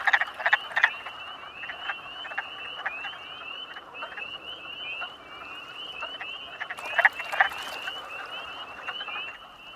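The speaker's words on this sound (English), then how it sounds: "the pond comes alive with male frogs serenading the" Male frogs croak in a dense, steady chorus at a pond an hour before sunset, with rapid rhythmic calls overlapping throughout and a few louder bursts standing out near the start and end.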